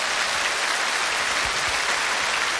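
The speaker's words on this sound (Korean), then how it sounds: "박수 한번 주세요." Loud, dense applause from a television singing contest audience, a continuous wash of clapping that holds steady throughout.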